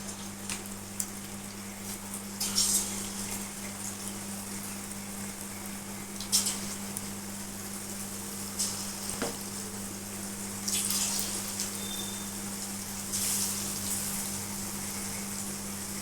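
Pieces of bhetki fish pakoda frying in hot oil over a lowered gas flame, giving a steady soft sizzle with occasional louder crackles and pops, close and moderately quiet with no talking.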